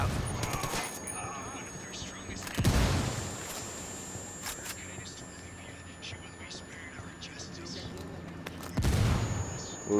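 Bursts of gunfire and a frag grenade explosion in the video game Ghost Recon Wildlands, two heavy booming blasts several seconds apart over low-level firing, with players talking quietly throughout.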